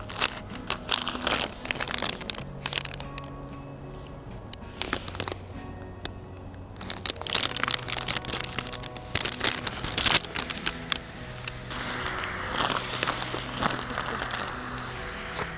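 A plastic bag from a military ration heater crinkles and rustles intermittently, with a flameless heating reaction inflating the bag, alongside handling clatter and faint background noise.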